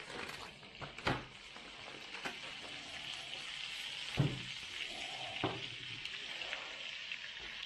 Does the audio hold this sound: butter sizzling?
yes